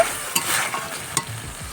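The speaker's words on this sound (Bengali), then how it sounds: "এবার আমি দিয়ে দিচ্ছি আদা রসুন পেস্ট করা এটাকে ভালো করে আমি কষে নেব" Ginger-garlic paste sautés for a chicken curry, a close sizzle with two sharp spatula scrapes against the pan in a brief burst.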